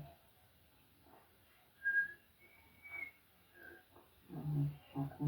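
Several short, clear whistled notes sound alone in a quiet room, soft and spaced apart, on an old 1939 radio drama; a rustle and a low murmur come in at the end.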